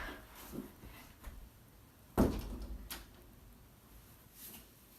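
A heavy door that was knocked down is shifted indoors, with scattered soft bumps and scrapes and one louder wooden thud midway, close by and without talk.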